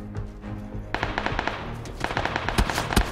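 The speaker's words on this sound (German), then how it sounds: "Es wird auf mich geschossen" Gunfire in PlayerUnknown's Battlegrounds, a quick rattling burst of automatic shots followed by more scattered cracks and short volleys, close and loud, with no voice over it.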